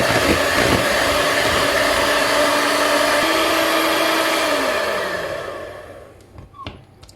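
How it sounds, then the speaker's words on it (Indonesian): An electric mixer beats chocolate cake batter in a steady, loud whir that runs for about five seconds, then winds down and stops, leaving a few faint clinks. "dan ini kita mixer lagi"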